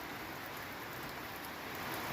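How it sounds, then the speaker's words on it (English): Steady rain hisses evenly on a backyard chicken coop, a dense, continuous patter with no voices. "Uh-oh, it's the rain."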